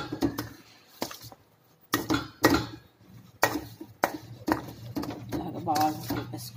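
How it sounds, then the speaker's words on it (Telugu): Ragi flour dough for ragi sangati is stirred in a pot, with intermittent scraping and clinking bursts under a person talking nearby. "ఇలాగా బాగా కలిపేసుకోవాలి, అంచులు పట్టల పిండి అంతా పొడి పిండి కలిసేలాగా కలిపేసుకొని"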